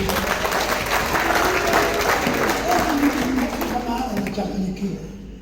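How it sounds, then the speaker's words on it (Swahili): Applause from a church congregation welcoming a newcomer, steady and fairly loud through most of the moment before tapering off at the end, with some voices mixed in. "Piga makofi kwa ajili yake"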